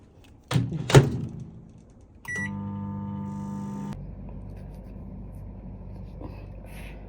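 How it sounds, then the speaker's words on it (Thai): Two sharp knocks, then a beep as a microwave oven heating water for coffee starts humming steadily for under two seconds before cutting off into quiet room noise. "ไมโครเวฟต้มเลย"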